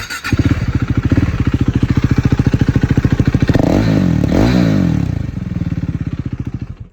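A KTM Duke 390 with a modified exhaust idles in neutral with a rapid, throbbing thrum, then revs up into a louder roar for a second or so before settling back to idle, close and alone.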